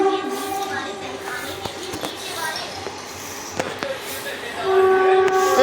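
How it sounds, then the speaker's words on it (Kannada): A train rolls in with rumbling rail noise and clanks, its horn sounding as sustained tones near the start and again loudly toward the end, while people talk nearby. "ಟ್ರೈನ್ ಬರ್ತದೆ ಅಷ್ಟೇ"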